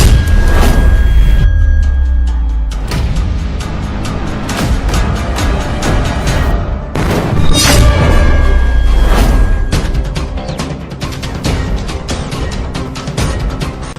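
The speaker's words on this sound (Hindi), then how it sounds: "ये बॉर्डर पर बम ब्लास्ट कैसे हो रहा है?" Bomb blasts at a border post boom loudly with deep rumbling thuds and crackling debris, several heavy impacts rolling one after another throughout, with no talk.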